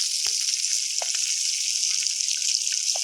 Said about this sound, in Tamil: இப்போ சட்டி காய வச்சு எண்ணெய் ஊற்றி வடவை காஞ்சிச்சு